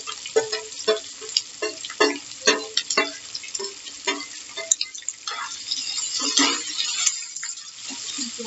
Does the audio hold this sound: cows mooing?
no